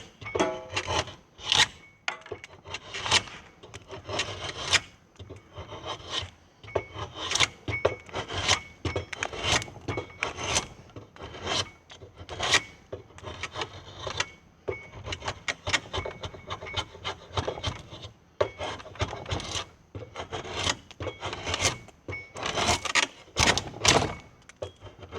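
Draw knife shaving a wooden tenon, a repeated rasping scrape in short rhythmic strokes with brief pauses between them, close up and fairly loud, with no talking.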